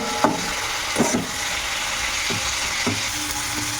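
Onions sizzle in a pan for Bihari-style chicken, with a steady frying hiss broken by several clattering scrapes of a spoon stirring against the pan.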